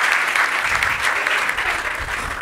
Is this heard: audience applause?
yes